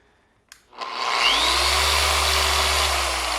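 A polisher with a microfiber pad spins on a headlight at about 5,500 RPM. A couple of sharp clicks lead into a steady, loud, close whirring whine.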